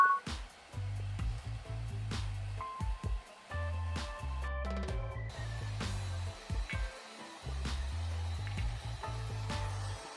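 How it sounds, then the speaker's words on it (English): A hair dryer blows the top section of hair from different angles to add volume, giving a low, steady whirring rush that cuts in and out in several bursts with short pauses, close by and with no talking. "I'd like to give the hair volume to top section by blow drying to the hair from different angles."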